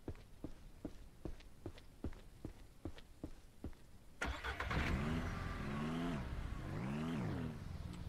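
A car in the Ranch Simulator video game: a steady run of evenly spaced footstep-like thumps, then the engine starts and revs loudly, its pitch rising and falling as the car drives off.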